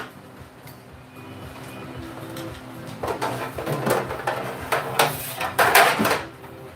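Steak shifted back into a pan and placed in the oven, with a series of clattering metal knocks, scrapes and a rattling oven rack sliding in, growing louder in the second half.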